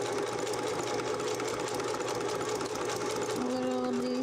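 A sewing machine stitches a rope coaster, its steady mechanical whir running close and continuous, with a slight change in pitch near the end.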